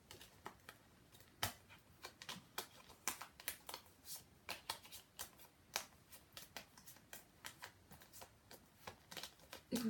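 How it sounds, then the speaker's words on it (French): A deck of tarot cards is shuffled close up, giving quiet, rapid, irregular riffling and slapping bursts that repeat steadily, with no talking. "on va un petit peu mélanger pour voir quelle carte va être tirée."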